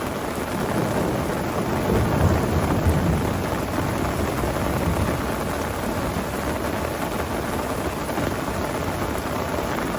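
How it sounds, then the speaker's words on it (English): A thunderstorm rolls over a carp-fishing lake, steady heavy rain hissing on surfaces with low rumbling thunder swelling underneath, close and continuous, no voices. "comes that thunderstorm."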